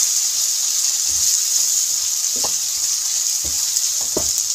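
Mixed vegetables frying in a pan for an achaari sabzi, a steady soft sizzle and hiss with a few faint stirring scrapes, no voices.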